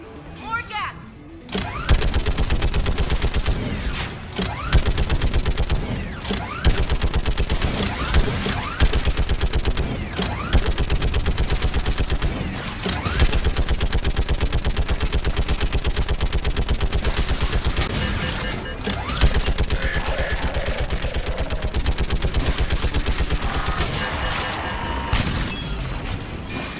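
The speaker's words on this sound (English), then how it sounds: "Should hop in that turret, Shepard." Turret gunfire in Mass Effect 3 pounds almost nonstop as dense rapid bursts and booms, loud and close, with battle chatter from voices layered over the fire.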